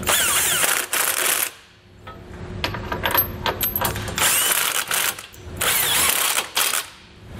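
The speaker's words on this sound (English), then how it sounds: "we'll come back with a 7 8 socket. We'll tighten all of our hardware into place." A ratchet fitted with a 7/8 socket tightens trailer hitch hardware on a 2021 Honda Pilot: loud, close, rapid clicking bursts that repeat with brief pauses between them.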